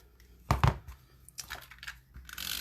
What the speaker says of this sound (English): Grab my ribbon scissors and chop that off.